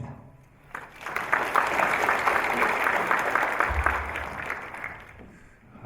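An audience claps steadily at a Korean lecture concert, the applause swelling quickly, holding as an even, moderately loud patter for several seconds, then fading away.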